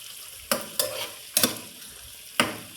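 Chicken cubes and capsicum stirred and fried in a pan for white sauce penne pasta, with four sharp bursts of sizzle and scraping over a quiet background as the spatula turns the pieces.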